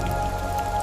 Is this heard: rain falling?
yes